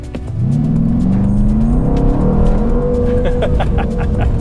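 A loud 2019 Mercedes-AMG C63 S engine revs up, its pitch rising and holding in a sustained roar, with a few sharp crackles near the end.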